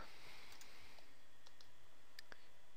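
A computer mouse gives a few sharp, isolated clicks in a quiet room while software is being used to flash a ROM onto an LG phone, with no talking.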